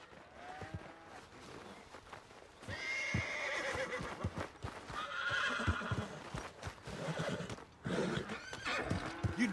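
Horses in Red Dead Redemption 2 gameplay neigh and whinny repeatedly, with hooves clip-clopping through the quiet scene and no talk over them.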